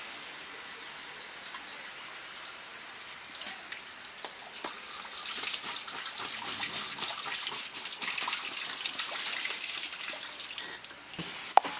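Running water splashes steadily while cut drumstick (sajna) vegetable pieces are washed by hand in a kitchen, with small clinks and a faint tap flow throughout and a brief bird chirp early on.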